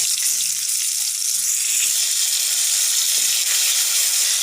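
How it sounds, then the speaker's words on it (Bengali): Pointed gourds fry in mustard oil with salt and turmeric, a steady close hiss and bright sizzle filling the pan without pause. "এই পটলগুলো তেলের মধ্যে দিয়ে দিচ্ছি।"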